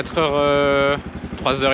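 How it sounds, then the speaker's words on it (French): Motorcycle on a long road trip toward Rio Gallegos after a breakdown, its engine turning over and then idling with a rapid, even thump, with a loud rising tonal whine over the top that breaks off and briefly returns. "J'ai rarement été aussi content d'entendre ma moto démarrer"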